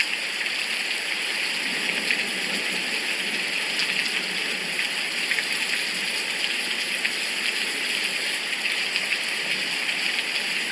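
Steady rain on a very rainy day with continual dripping, a dense, even hiss that holds at the same level throughout with no voices.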